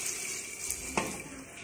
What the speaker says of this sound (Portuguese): agora eu vou colocar água, que eu já coloquei água para ferver aqui